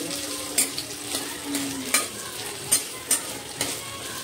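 Capsicum, onion and carrot sauté in a pan for chilli manchurian, giving a steady close sizzle broken by several sharp stirring scrapes and clinks of the spatula, with no talking.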